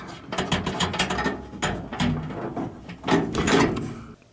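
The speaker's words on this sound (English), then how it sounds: "And now I'm just adding a nut to hold on to that ground." Close ratcheting clicks in irregular bursts as a nut is tightened onto a ground post of a K40 laser cutter setup, mechanical and fairly loud with no speech.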